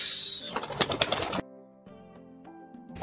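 Racing pigeons in flight, a burst of close wing flapping and fluttering in the first moments, then a quieter pause with faint tonal sounds.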